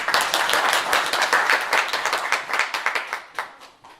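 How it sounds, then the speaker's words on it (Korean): An audience at a joint press briefing on the proposed Siheung Baegot Seoul National University Hospital claps to welcome Siheung mayor Im Byeong-taek to the stage: dense, close applause with many overlapping hand claps that thin out toward the end. "큰 박수로 맞아주시기 바랍니다"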